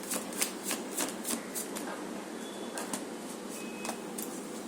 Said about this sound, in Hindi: एक शफल में जितना आता है मैं लूंगी।